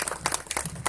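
A gathering at a kindergarten classroom inauguration in Tuxtepec applauds the neighbourhood president, with brisk, uneven bursts of clapping close by for a moment.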